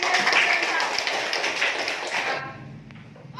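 A class of students applauds after singing, with dense clapping that fades out partway through before quieter sounds and a voice follow.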